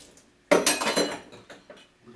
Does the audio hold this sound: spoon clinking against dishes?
yes